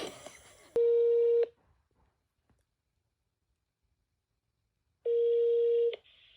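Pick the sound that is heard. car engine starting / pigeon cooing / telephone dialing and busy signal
telephone dialing and busy signal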